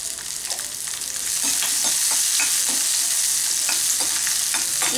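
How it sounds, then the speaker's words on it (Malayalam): Handful of shallots frying in hot oil for a mutton liver fry, giving a steady, close, loud sizzle that swells after the first second, with soft stirring scrapes and clicks throughout. "ചുമന്നുള്ളി ഞാനിവിടെ ഒരു പിടി ഇട്ട് കൊടുക്കുന്നുണ്ട്"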